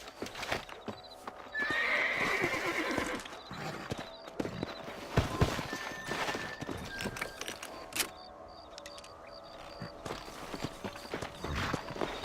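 Horse hooves clip-clop steadily and close by in the video game Red Dead Redemption, with a horse whinnying loudly early on over an outdoor background.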